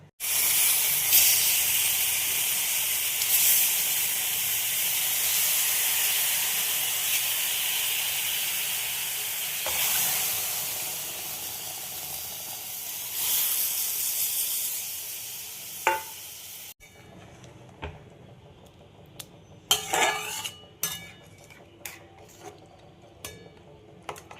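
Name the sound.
hilsa fish with cashew and sesame paste cooking in a wok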